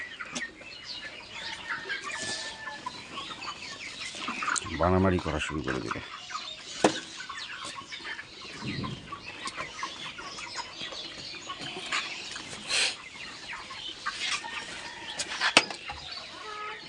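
Farm chickens cluck and call around fermented feed, scattered near clucks and squawks over quiet background, with a person talking at times.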